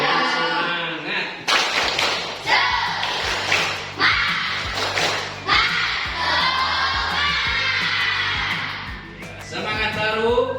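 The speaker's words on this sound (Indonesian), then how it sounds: "Tepuk semangat." Schoolchildren in an elementary classroom in Cianjur do a rhythmic spirit clap, chanting and shouting together between sharp bursts of claps and thumps in a repeating pattern, loud and close.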